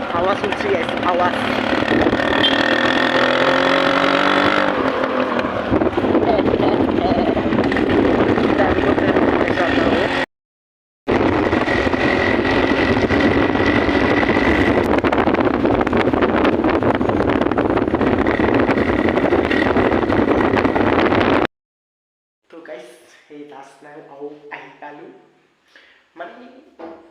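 An old motorcycle rides along a flyover in Guwahati, a long, loud, steady rush of wind and engine drone that cuts out twice, followed by a person talking at the end.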